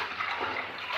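Clean water runs and splashes steadily over food being washed in a cooking pot. The wash is close and continuous, with no voices heard.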